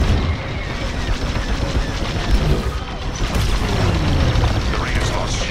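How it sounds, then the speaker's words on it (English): Imperial fleet firing at a convoy during a Star Wars: Squadrons space battle, a dense, continuous barrage of booming blasts and mechanical clatter, loud and close, with radio voices talking over the fire. "Imperial fleet's firing at the convoy."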